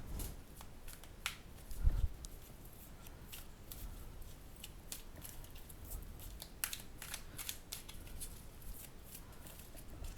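Oracle cards being shuffled and drawn by hand, making a busy run of crisp close card riffles and flicks with a soft thump near the start, no talking.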